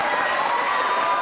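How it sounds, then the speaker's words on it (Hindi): A studio audience on a comedy talk show claps in a short, dense burst of applause, loud and full, sustained evenly across the moment with a crowd murmur beneath. "वाह, तालियां होनी चाहिए भाई राबिया के लिए।"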